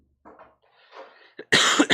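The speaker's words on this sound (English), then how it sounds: "Sorry if I'm having to cough every" A single person's cough during a live record sale, preceded by quieter shuffling; the cough bursts in loud and close, with a rough, breathy texture.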